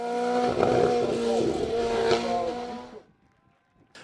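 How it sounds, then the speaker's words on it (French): A Martini MK30 historic single-seater race car powers up a hill climb at Dunières, its loud, harmonically rich engine note rising and shifting for about three seconds before abruptly falling away to near silence. "Pierre Joly s'y impose dans la toute dernière montée au volant de sa Martini MK30."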